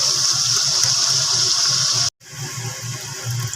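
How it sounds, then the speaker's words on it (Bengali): Water pours into a pan of pabda fish curry in a steady, loud gush, breaks off briefly, then flows on again close up with no voices. "এবার জল জলটা দিয়ে এবার ভালোভাবে একটু মিক্স করে নেওয়া হচ্ছে"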